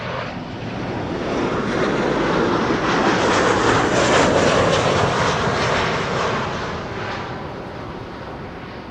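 A fixed-wing airliner arriving at Amsterdam Schiphol Airport roars past close to the runway, its engine noise swelling to a peak midway and then easing off, with some wind buffeting on the microphone.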